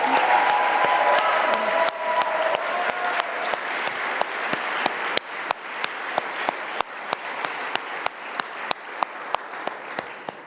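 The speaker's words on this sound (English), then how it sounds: "Can we just have a round of applause for our alumni?" An audience at a Civic Leadership Academy welcome ceremony applauds its alumni, a full burst of clapping that thins out into separate, slowing claps as it dies away.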